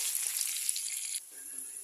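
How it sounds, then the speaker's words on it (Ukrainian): Constant bright sizzling of onion frying in a hot pan, close and steady, easing slightly near the end. "обсмажуємо цибульку на сковорідці. трішки-трішки присмажую."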